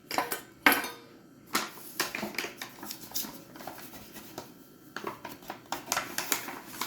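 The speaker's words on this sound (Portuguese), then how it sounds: "Começar a bater com a colher para ficar mais fácil." Heavy cinnamon roll dough beaten with a spoon in a bowl, giving irregular close knocks and scraping clatters that come in quick bursts.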